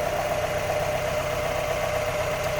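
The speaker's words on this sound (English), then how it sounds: "Car runs and sounds just like you'd expect a stock Miata sound." A 2005 Mazda MX-5 Miata's stock 1.8 liter engine idles with a steady, even hum, heard close up from the engine bay with no other sounds.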